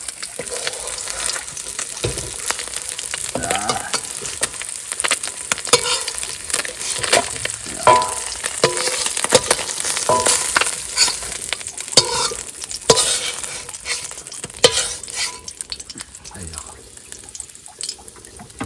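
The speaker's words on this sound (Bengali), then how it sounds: "মাছ কিন্তু ভাজা হয়ে গেছে এবার নামায় নেবো" Oil sizzles steadily while shark fish fries in a pan by a river in the Sundarbans, mixed with clinks of a utensil stirring and scraping the pan, and some background movement throughout.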